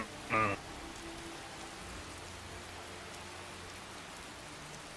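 Steady rain falls as a soft, even hiss throughout, fairly faint, with one brief brighter tonal blip near the start.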